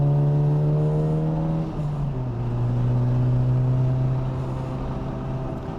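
Honda Civic Type R FL5 on a warm-up lap at Virginia International Raceway, its engine a loud steady drone from inside the car that dips briefly with a gear change, then holds steady.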